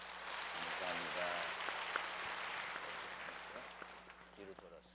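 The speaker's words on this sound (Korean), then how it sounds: "한번 박수해 주시기 바랍니다" A church congregation claps together for a newborn, a broad wash of applause that swells and gradually fades, with a few voices murmuring underneath.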